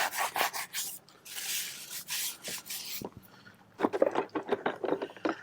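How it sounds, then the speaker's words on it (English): A stiff brush scrubs a car tire on a black car being washed outdoors, with a run of quick, close rasping strokes, a short pause, then another burst of brisk scrubbing. "So I like to give it a good scrub."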